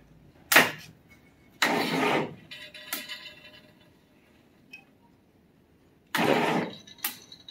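The engine of a 1961 Studebaker Lark cranks in short bursts of rough, noisy turning with pauses between attempts, close and fairly loud, and it does not catch.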